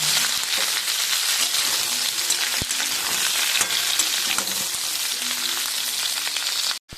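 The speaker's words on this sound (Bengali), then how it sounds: "ঝিঙেগুলো দিয়ে হালকাভাবে ভেজে আমি নামিয়ে নেব।" Sliced ridge gourd fries in oil alongside pointed gourd, making a steady sizzle with crackles and an occasional stirring clink throughout.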